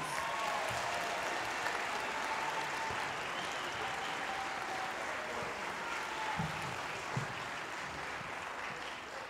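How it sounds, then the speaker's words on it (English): An audience at a high school band winter concert applauds the cadet band after its set, a fairly quiet, even wash of clapping heard from a distance that carries steadily for the full stretch. "Please give them one more big round of applause."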